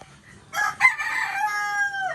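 A rooster crows once, close and loud, a long strained call rising then holding before trailing off, with no voices around it.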